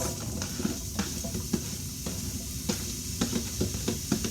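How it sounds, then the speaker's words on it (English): Steady sizzling of onions frying in a hot pan, with occasional scrapes and clicks of a utensil stirring. "it starts to sizzle. So that means it's actually hot enough already"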